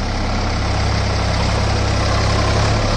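Sonalika 745 III tractor engine running steadily in second gear, a continuous low, heavy diesel rumble with constant vibration, close and loud throughout with no talk.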